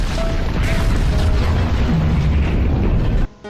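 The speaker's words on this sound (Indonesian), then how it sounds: "pesawatnya meledak menabrak sebuah gunung" Explosion of a plane crashing into a mountain in a film, a loud, dense, sustained roar and rumble that fills the scene and cuts off abruptly near the end.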